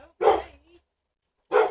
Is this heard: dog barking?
yes